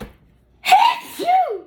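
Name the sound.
sneeze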